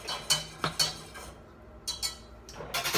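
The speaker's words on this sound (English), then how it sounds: "I mash them now with a potato masher" Rinsed black beans being mashed in a bowl with a potato masher, giving a few soft, sparse clinks and squishy knocks in an otherwise quiet room.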